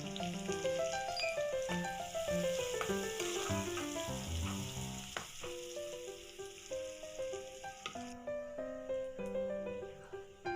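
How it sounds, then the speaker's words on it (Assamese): Onions fry in hot oil in a pan, giving a steady close sizzle under louder music that plays throughout. "এতিয়া পিয়াজ দি দিছো। পিয়াজখিনি অলপ ভাজি লম।"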